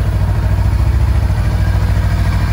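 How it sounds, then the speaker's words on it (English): A 2019 Honda CMX500 Rebel motorcycle, 500cc engine with about 12,490 miles, idles smoothly and steadily, a loud, continuous close-up thrum with no talking. "Very smooth engine, these 500 Honda engines. No nasty noises."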